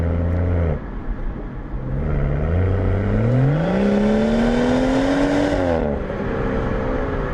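A loud BMW 440i engine with its dual resonators deleted revs up steadily, pitch climbing and holding before easing back, with a raw, rumbling exhaust tone and no talk.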